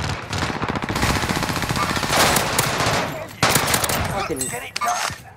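Rapid automatic gunfire in a Call of Duty Warzone Rebirth match, loud and close, sustained bursts of fast shots, then a brief pause and more shots, with players talking over it.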